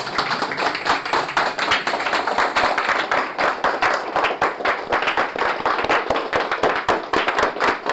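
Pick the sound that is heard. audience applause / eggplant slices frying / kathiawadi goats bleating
audience applause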